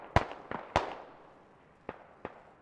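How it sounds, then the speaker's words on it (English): Mortar rounds explode in the Squad military video game: five sharp booms at uneven spacing, three close together and then two more, each with a short fading rumble. "But very effective mortars."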